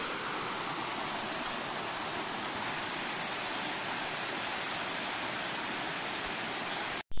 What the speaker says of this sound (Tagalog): Kawa-Kawa Falls. Ayan po, may mga falls. Running water po siya.